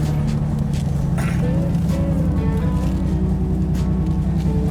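A classic car's engine idles with a deep, V8-like rumble and a steady loping pulse, close and prominent, while faint tonal whine and light movement noises drift over it.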